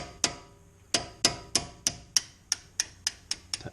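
Sharp metallic taps of a hammer on a drift, knocking brake pad pins out of a 2008 Mercedes E350 front brake caliper, about ten distinct strikes in an irregular, quickening rhythm, close and loud.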